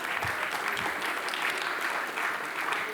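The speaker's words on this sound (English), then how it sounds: "So can I give a round of applause to our wonderful panelists," Conference attendees applaud a panel on monetisation strategy with steady, even clapping that holds at moderate volume for the whole stretch, without talk over it.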